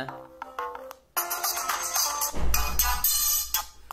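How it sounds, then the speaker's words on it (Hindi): A ringtone melody plays from a Panasonic 810 mobile phone, a few soft notes at first and then a louder, brighter electronic tune with bursts of layered tones. "बहुत सारे जो कि रिंग टोन निकल चुका है आप कोई सा भी लगा सकते हैं मैं चला के दिखा देता हूँ"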